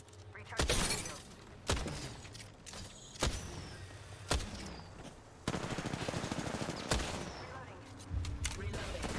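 Video game firefight with repeated sharp bursts of gunfire and heavy impacts in short clusters, loud and close, over a continuous background of game noise.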